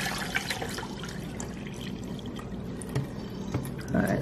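Water pours steadily into a Levoit filter pitcher, a close, continuous splashing fill with a slight rise in level toward the end and no talking.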